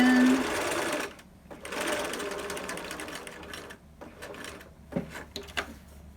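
A home sewing machine stitches across the elastic of a large adult fabric mask in short bursts of rapid mechanical whirring, broken by pauses with light handling clicks, heard up close.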